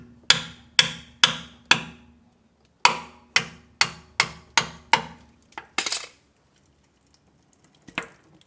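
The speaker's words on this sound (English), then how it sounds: "I'm going to use my paint scraper to get up in here and open up this differential" A paint scraper is hammered into the rear differential cover seam of a 2011-or-later Ford F250 pickup, giving about ten sharp metallic taps in a steady rhythm, then a short scrape and one last tap.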